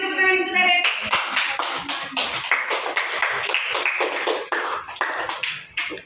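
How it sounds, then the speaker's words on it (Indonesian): A classroom of students applauds for a classmate, with steady, fairly loud clapping from many hands that continues throughout, after a brief tonal sound at the start. "Kasih tepuk tangan untuk Zarif"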